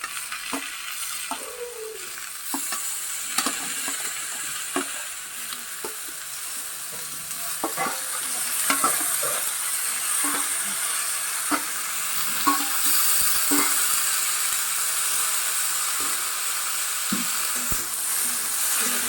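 Onion flower stalks fry in a pan with a continuous sizzle that grows slightly louder over time. Repeated clacks and scrapes of a spatula stirring them sound up close.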